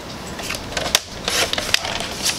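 A paper piece being cut for book binding, with a few crisp scissor snips and paper rustles close by, short and sharp against a quiet room.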